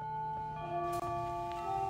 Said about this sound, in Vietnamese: Đây là tiếng chuông báo hiệu giờ làm việc vào buổi chiều thì nó sẽ reo vào lúc 12:40.